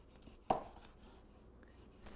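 A knife cuts through a red finger chili on a board, giving two or three soft, quiet chopping taps with silence between them.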